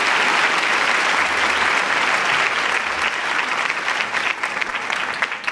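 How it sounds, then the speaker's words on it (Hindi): Sustained, dense applause from a crowd welcoming an education minister at a ceremony, loud and steady throughout with no talking over it. "आप सभी तालियां बजाकर उनका स्वागत कीजिए।"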